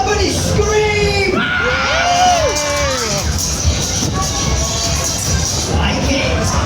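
Riders on a spinning Razzamatazz Waltzer fairground ride scream and whoop together in a loud, wavering crowd chorus, with shouting voices mixed in close by.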